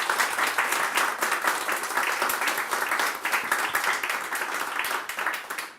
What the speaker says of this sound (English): Big round of applause to the panel,